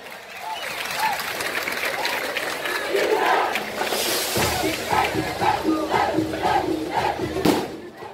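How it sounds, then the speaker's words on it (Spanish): A crowd at a band festival in Berlín cheers and shouts for a band, the whoops and hollers rising into rhythmic applause that grows louder in the second half. "Fuerte el aplauso para ellos."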